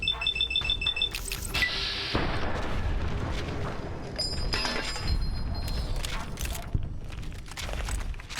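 Heavy booms and blasts from a missile launcher in Fallout: New Vegas land amid clattering mechanical game noise, several loud impacts spaced irregularly across the stretch.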